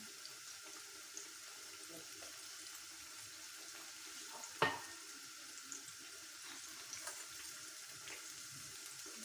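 Sliced potatoes coated for potato chip pakora hit hot oil and fry with a soft, continuous sizzle and light bubbling. The sound is faint and even, with one sharper crackle midway and a few small pops.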